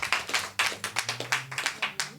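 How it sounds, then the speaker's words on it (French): A small audience claps for a host at a live evening event: sparse, distinct hand claps at a steady rhythm, fairly close and moderately loud, with no talk over them. "Donc merci de l'applaudir."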